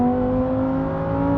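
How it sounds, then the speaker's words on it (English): A 2022 Lamborghini Huracán STO engine drones at steady high revs, loud and close, with strong sustained harmonics and no break for the whole stretch. "when you can unleash that astonishing engine, that power plant is like nothing else you'll ever experience"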